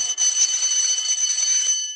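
A continuous electric bell rings steadily with a bright, metallic tone for about two seconds, loud and unbroken, with no voices.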